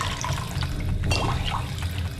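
Water running steadily in a Fallout 4 vault in the video game, a continuous rushing pour with a low rumble underneath and no pauses.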